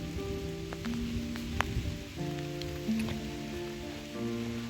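Steady rain patters on a surface, a dense hiss of drops under a faint, continuous tonal hum.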